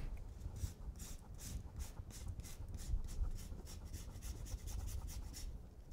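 A lemon is rubbed against a grater in steady, rhythmic rasping strokes, close up and fairly quiet, with no talking.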